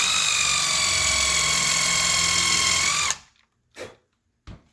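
A power drill drives a countersunk screw into a cabinet, a loud steady motor whir close by that stops abruptly, followed by a couple of brief clicks.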